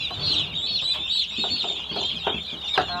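High, busy peeping and chirping from a group of young turkeys, steady and close, with a few louder calls standing out.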